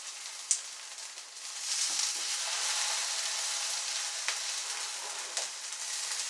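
Chickpea patties sizzle steadily in a pan until golden brown, a continuous close frying hiss with a few faint clicks and no talking.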